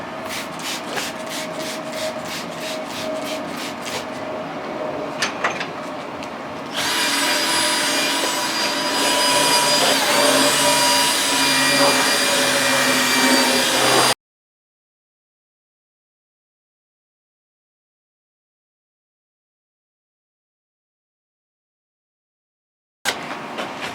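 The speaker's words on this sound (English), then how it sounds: "Now I'm going to also wet sand this 320 grit." Steady abrasive rubbing of 320-grit wet sandpaper on the inside of a Honda Civic headlight for about fourteen seconds, growing louder and harsher midway, then silence before it briefly resumes at the end.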